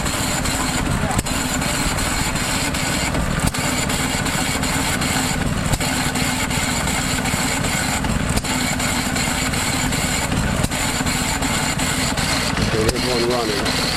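An antique stationary engine with heavy twin flywheels and a water-cooled hopper, mounted on a Cub Cadet chassis at a show in Canfield, Ohio, runs steadily under its governor, a continuous nearby chugging throughout with people talking over it.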